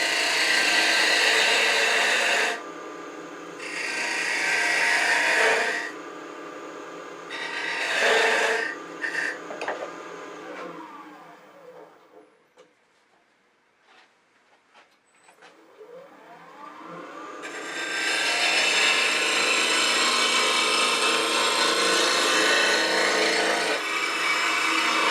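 A wood lathe spins up while turning a wooden elephant carving, a loud steady rasping whir of the cutting tool on wood in long bursts, tapering into a quiet pitch-sweeping spin-down before the scraping resumes at full strength.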